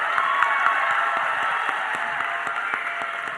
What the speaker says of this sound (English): You guys give a huge round of applause